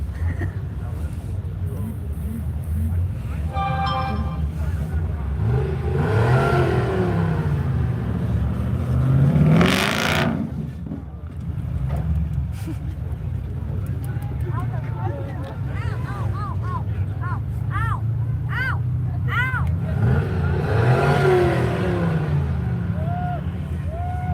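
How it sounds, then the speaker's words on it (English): A supercharged LS V8 in an offroad video game revs and drones, rising in pitch through a couple of loud bursts before easing off, heard beneath ongoing live-stream chatter from a man. "Listen to that supercharged LS."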